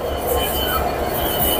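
Jahanabad Express train at Kamalapur railway station, with a steady rumble and hiss of rolling stock and faint wheel squeal filling the platform throughout, a speaking voice blended in.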